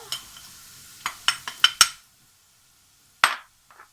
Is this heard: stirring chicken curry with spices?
yes